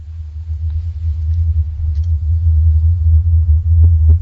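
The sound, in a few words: Taos hum, low mysterious rumbling sound recording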